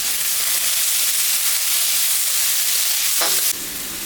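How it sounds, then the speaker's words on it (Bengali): Chopped onion, garlic and green chili fry steadily in hot oil, a dense continuous sizzle close by with no voices, briefly flaring louder near the end as the pieces are stirred. "এখন একটু ভাজা ভাজা করে দিই"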